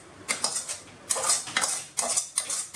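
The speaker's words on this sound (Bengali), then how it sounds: "সেটাকে একটু তেলে ভেজে নেব পেঁয়াজ রসুন আর আদা" Onion, garlic and ginger frying in oil in a pan, heard as bursts of crackling sizzle with light utensil scraping and clinks, loud and close, coming in several waves.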